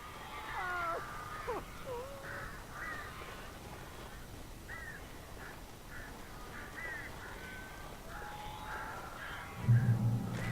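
Crows caw from the Alan Wake video game: scattered harsh calls, quiet and somewhat distant, repeating at irregular intervals over a low background hum, with a dull thump near the end.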